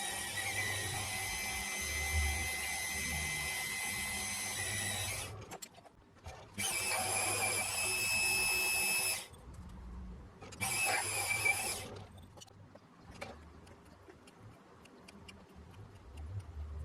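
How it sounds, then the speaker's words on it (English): Drilling and tapping holes in a shopmade lathe travel steady: a steady high-pitched machine whine runs in three long bursts with short pauses between, close and loud, with small ticks and clicks in the quiet gaps. "when I finish drill and tapping these holes"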